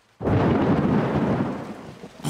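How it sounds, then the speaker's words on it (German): A loud cartoon thunderclap from a thunderstorm in a children's animated show, booming in suddenly and rumbling for about two seconds before fading, with a brief swell again at the end. "Kommt, wir zählen die Sekunden zwischen Blitz und Donner."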